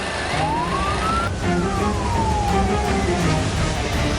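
A wailing fire truck siren sweeps up and down in pitch over steady road traffic noise, loud and fairly close, with no talking.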